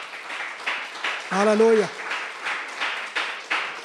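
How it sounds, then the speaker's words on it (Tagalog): A church congregation giving a clap offering during a Sunday service, steady applause rising and falling in waves throughout, with a single voice briefly speaking over it partway through. "Let's give a clap offering to the Lord."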